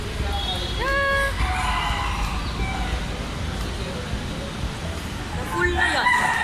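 A rooster crows at a distance, its rising call repeated, amid a busy ambient din of a hobby expo with voices at the start and end.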